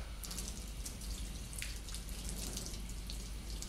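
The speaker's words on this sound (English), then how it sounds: "Now rinse off, always ensuring that the water drips towards my elbow" Tap water running steadily over hands and down to the elbow during a surgical hand scrub rinse, a soft continuous splashing stream with faint drips, fairly quiet and with no voices.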